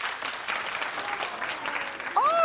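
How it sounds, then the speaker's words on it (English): A small crowd at a comedy night at a hot dog venue claps in a brief, moderate burst of applause, and a short vocal sound cuts in at the end. "Clap if you've never been to your prom."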